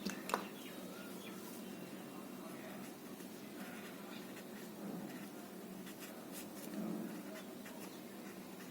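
Pen or marker scratching on a board or paper while working through Euclid's division algorithm in a maths lesson, faint and quiet with soft intermittent strokes against a low room hiss.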